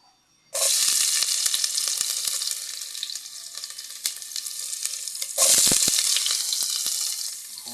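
Garlic hits a hot pan and bursts into a loud, steady sizzle, dipping slightly and then surging again as more is added or stirred partway through.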